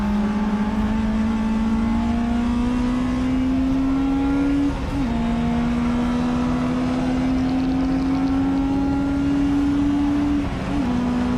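Classic Sports Car Club tin top saloon race at Silverstone National circuit, with a loud, sustained engine drone rising slowly in pitch through the gears and two brief dips at shifts, close and dominant without voices.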